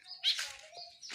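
A pet bird being hand-tamed gives a few faint, short chirps and thin whistled notes, close but quiet, with nothing else around it.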